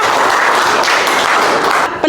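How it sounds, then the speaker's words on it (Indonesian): Applause from a classroom of students for a classmate, a steady dense patter of clapping filling the whole short stretch and fading out at the end. "Tepuk tangan"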